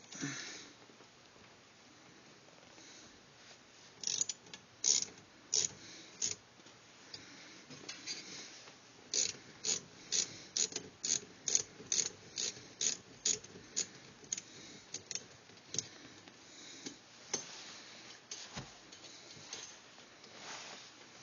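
A clamp being tightened onto a pipe while building a homemade tool for locking a steering wheel: a run of sharp, evenly spaced ratcheting clicks in bursts, close and moderately loud, with brief pauses and handling noise between.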